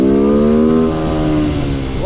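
A motorcycle engine revs up and then eases back down, a loud, close, steady mechanical drone lasting about two seconds, heard alone without talk.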